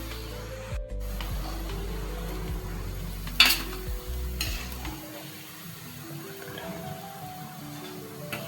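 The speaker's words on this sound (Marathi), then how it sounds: "मंचुरियन कडक तेलामध्ये घातल्यानंतर बारीक गॅसवर तळायचे" Veg manchurian balls frying in hot oil over a low flame, a steady close crackling sizzle with a brief clatter of utensils partway through, quieting toward the end.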